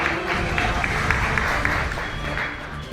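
Loud, dense applause from a seated audience at a women's day seminar in a press club hall, a continuous wash of many hands clapping throughout.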